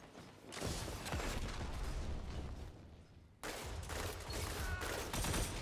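Shots in the video game Destiny 2, with dense, rapid bursts of loud weapon fire sustained over several seconds, a brief break, then another volley of close, crackling gunfire with mechanical clatter underneath.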